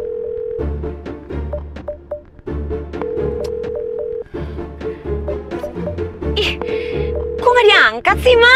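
An unanswered phone call rings back through a handset as repeated steady tones in even on-off pulses, while someone talks over it and lively music swells near the end.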